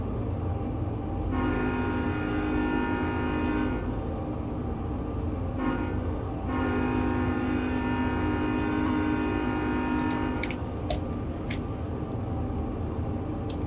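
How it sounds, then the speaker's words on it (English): Train rolling on rails in Train Sim World 2 on the Sherman Hill route, with a steady low rumble of wheels throughout and sustained horn blasts layered over it, broken by brief gaps and a few sharp clanks near the end. "Especially, you know, sounds on the rails. Because yeah, it just doesn't sound like a train otherwise."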